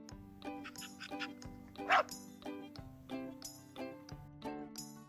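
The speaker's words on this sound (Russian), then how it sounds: "Это собака." A dog barks and yips repeatedly in short, sharp bursts spaced across several seconds, fairly faint with a steady low backing underneath.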